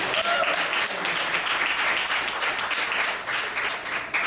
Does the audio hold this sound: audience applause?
yes